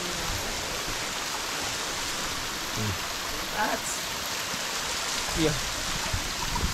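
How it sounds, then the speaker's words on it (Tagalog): An artificial mini waterfall inside a Taiwan department store gives a steady, even rush of falling water, with a few brief voices and a short spoken word over it. "Kaya nandito na kami sa mini falls."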